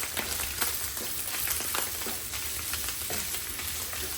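Onion frying with bacon in a pan gives a constant, dense sizzle with small crackles throughout. No one talks over it.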